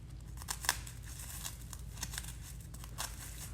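Scissors snip through excess tulle for a DIY pom pom, a quiet series of close, irregular crisp cuts and rustles, about a dozen short crinkly bursts with no talking.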